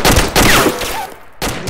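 Automatic weapons fire bursts loud and dense in ArmA 2 gameplay, sustained rattling fusillade that briefly drops away before another close volley resumes.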